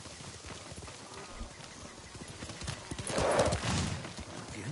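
Horse hooves clip-clop along at a steady walking rhythm, fairly close, with a brief whinny or snort rising midway and a faint voice in the background.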